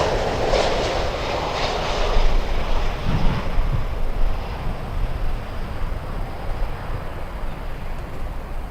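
Wind gusting hard into an outdoor microphone beside Miami International Airport, a thick, blustery rumble with uneven surges and a fading jet roar underneath, no voices.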